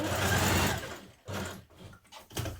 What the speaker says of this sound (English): I'll put it on a long straight stitch. I'm just going to sew around that curve